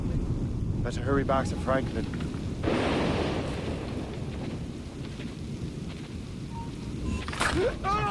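In Assassin's Creed Rogue, a worsening storm sends a constant wash of rain and wind with a surge of rumbling gusts, while a character speaks briefly over it.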